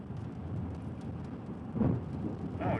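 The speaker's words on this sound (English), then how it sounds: "just heard the clap of thunder." Low rumbling thunder rolls under wind and rain noise during a severe Texas storm, with a louder boom near the end.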